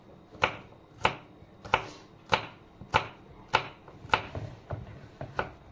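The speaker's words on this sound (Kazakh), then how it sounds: "Одан кейін лимонды да осындай күйде тураймыз." A knife chops a lemon on a board in steady, evenly spaced strokes, about one cut every half second, crisp and close with no talking.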